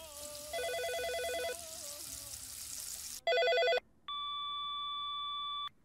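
A mobile phone ringtone plays in several bursts of electronic beeping and trilling, ending in a long steady tone, clear and close over a faint hiss of background noise.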